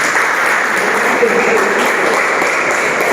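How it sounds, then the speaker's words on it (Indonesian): An audience at an internship and entrepreneurship selection presentation applauds loudly, dense sustained clapping that holds at an even level for the full stretch, with some voices mixed into the crowd noise. "tepuk tangan"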